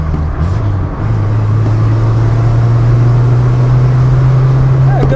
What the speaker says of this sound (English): Yeah, so it makes all the old car noises.